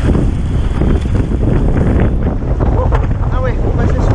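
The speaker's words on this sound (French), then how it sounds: "On voit les rafales devant là" Strong wind gusts buffet the microphone on a river during a canoe trip, a loud steady roar with rushing turbulence and faint water sounds underneath, while a voice briefly chirps in the background.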